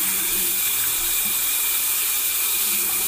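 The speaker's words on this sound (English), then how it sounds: "So now we're gonna add some water." Water pours steadily from a bathroom tap into a pot for mashed potatoes, a constant close rushing hiss with no break, alone without talk.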